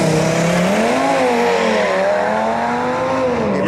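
An Audi RS3 and a BMW 330 Diesel drag racing side by side on a strip, heard as a loud, close, sustained engine roar with rising and falling pitch and no talk.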